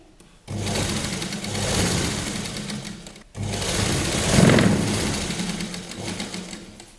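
Sewing machine stitching the edge of a children's Patiala dress: two steady whirring runs of rapid needle clatter, close and fairly loud, separated by a brief pause, with no talking.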